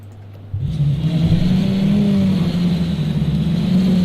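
A Ferrari engine in the Project CARS 2 racing game starts up and holds a loud, steady revving drone that rises slightly in pitch, close and continuous, with no talk over it.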